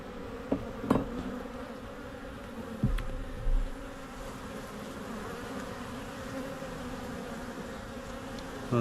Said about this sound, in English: Well, there's enough bees up here.